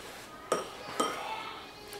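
A utensil knocks against a bowl while protein powder is mixed into apples for cinnamon dessert balls, giving two sharp, close clinks half a second apart over a quiet background.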